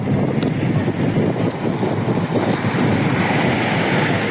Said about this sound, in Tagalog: Maraming alon.